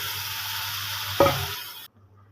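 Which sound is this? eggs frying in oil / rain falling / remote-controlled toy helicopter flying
eggs frying in oil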